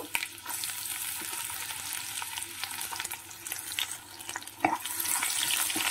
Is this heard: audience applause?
no